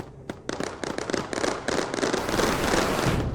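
Scorch turret firing in the Mindustry game: a rapid run of sharp crackling pops that merges into a dense, continuous roaring crackle, loud and steady without talk.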